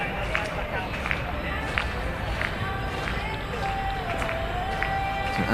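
Spectators at a school athletics meet clap in a steady rhythm along the long jump runway, the evenly spaced claps moderately distant beneath continuous crowd murmur and talk.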